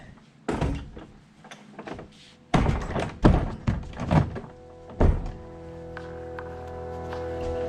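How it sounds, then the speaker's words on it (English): A cabin door is pushed shut, giving a series of dull wooden thunks and knocks at close range, including a sharp impact with a lingering resonant hum, and no talking. "That door is shut."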